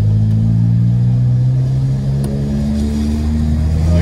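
A scooter engine with a full straight-through exhaust drones steadily and loudly at close range in town, its exhaust holding a rough, sustained rev throughout.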